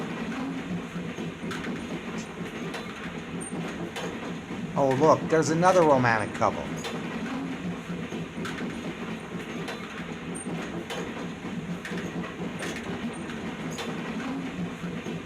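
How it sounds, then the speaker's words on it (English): A train rumbles steadily along the tracks with rhythmic clacking and a brief squeal of wheels midway, slowing and backing into Two Harbors, while people talk over it. "The train is slowing down now as we make our approach into scenic Two Harbors."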